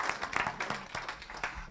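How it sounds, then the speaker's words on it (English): Audience applause at a book talk, a dense patter of many hands clapping at moderate loudness, brief and steady with no voices over it. "she deserves a round of applause now"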